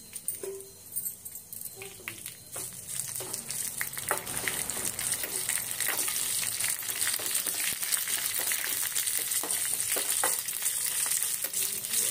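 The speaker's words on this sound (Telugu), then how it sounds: "పోపు వేగిపోయిందండి." Curry leaves, mustard seeds and a dried red chili sizzle and crackle in hot oil for an Indian tempering, a steady close frying hiss with scattered pops that builds after the first few seconds and holds throughout.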